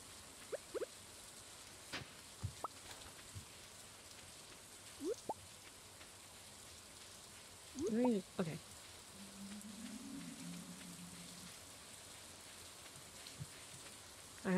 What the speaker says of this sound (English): What, 1 day of rain?